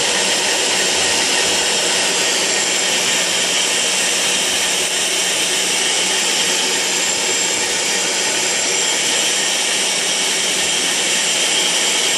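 A portable PF 175 line boring machine with power feed runs steadily at close range, giving a loud, continuous whirring and grinding drone with no letup and no voices.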